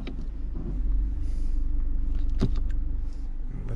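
Car rolling slowly in neutral on a gravity hill in Sonoma County: a steady low rumble of tires and body over the road, with a faint click partway through, heard from inside the cabin.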